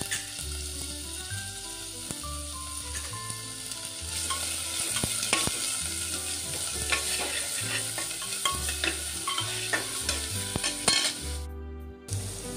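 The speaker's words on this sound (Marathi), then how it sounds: "कांदा आता आपला चांगला परतून झाला की आपण त्याच्यात आलं लसूण पेस्ट टाकतोय" Chopped onion sautéing with ginger garlic paste for a chicken soup, a steady close sizzle in the pan broken by repeated scraping stirs and occasional utensil clinks, with no talking.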